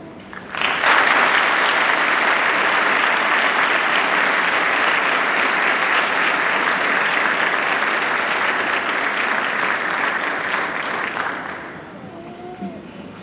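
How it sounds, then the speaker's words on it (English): Graduates in a large hall at a university degree ceremony applaud their families, a loud, dense and steady round of clapping lasting about eleven seconds before it abruptly fades. "I would also like to ask our graduates now to applaud their families, their supervisors, their spouses, their guardians"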